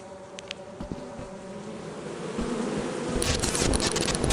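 Circuit bees swarm around their hive in Lethal Company, a steady electric buzzing that swells louder toward the end, with no speech.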